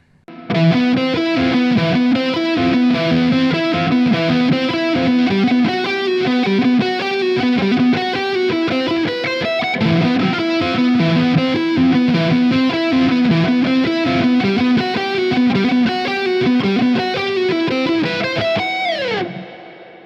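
A fast, continuous run of distorted electric guitar notes picked evenly at speed, played loud and close for about twenty seconds; no speech.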